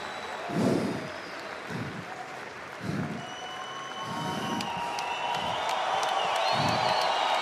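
Fight crowd at the Rkena 2 event cheering and clapping, a continuous roar of applause with periodic low thumps and rising shouts, loud and sustained.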